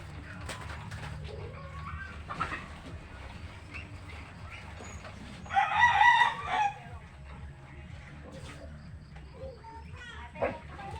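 Pet birds and chickens calling in a backyard, a sharp burst of squawking around the middle over steady low background noise, with someone talking throughout.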